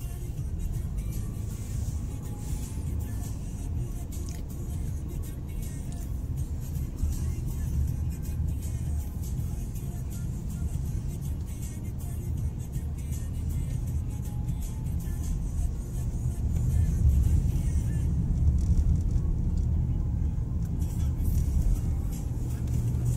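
Steady road traffic rumbles near a metro station, with cars passing and engines droning continuously, growing louder and heavier toward the end; faint voices murmur underneath.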